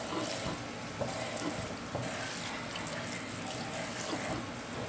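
Water running out of a kitchen sink after its plug is pulled, a steady rushing, gurgling wash of sound throughout, close and fairly loud, with faint talk underneath.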